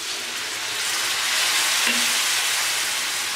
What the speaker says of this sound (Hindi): अब मैं इसमें थोड़ा सा पानी डालूँगी